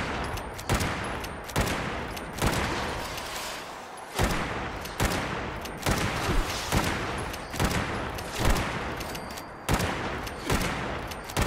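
A lever action rifle modded for quad fire rate shoots in Fallout 76, firing in loud, sharp bursts of rapid cracks separated by brief pauses, with a regular rhythm and no talking.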